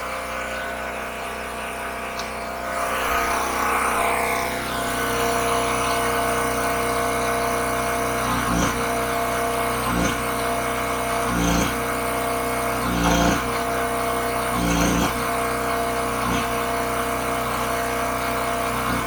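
An old Harbor Freight portable gas generator drones steadily and loudly nearby, with periodic thumps and clunks pulsing over the running motor.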